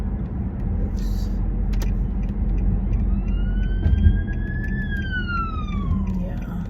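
A siren sweeps up and then down in pitch as an ambulance passes, rising over steady road and traffic rumble with faint voices nearby, loudest midway before fading.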